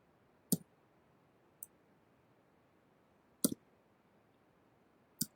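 Mouse clicks on an apply promo code button in a web app, four sharp isolated clicks spread over a few seconds against faint room hiss.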